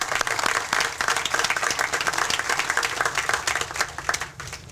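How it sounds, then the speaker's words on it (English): A crowd outdoors at a senior recreation center groundbreaking ceremony gives a dense, sustained round of applause, steady and fairly loud throughout before easing off at the end. "Let's give him a nice round of applause, please."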